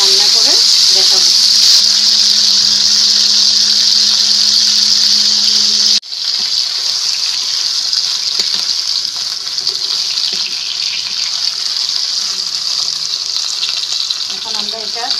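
Nilotica fish simmering in masala gravy in a pan gives off a loud, steady bubbling sizzle that continues without a break, with a slight shift in tone partway through.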